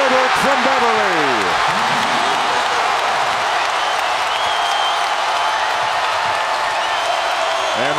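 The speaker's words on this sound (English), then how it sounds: "And the crowd is roaring again here in Raleigh" College basketball crowd in a Raleigh arena at a North Carolina vs NC State game, a loud continuous roar with a commentator talking over it.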